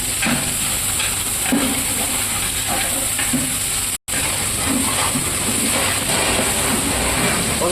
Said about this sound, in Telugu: ఇప్పుడైతే అల్లం పేస్ట్ పచ్చివాసన పోయేంత వరకు వేయించుకున్నాం